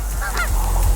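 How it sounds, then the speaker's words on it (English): Loud, close goose honks on Prince Edward Island, Canada, a couple of nasal calls in quick succession over a rumbling, windy background. "I forgot how pretty it is to watch geese work."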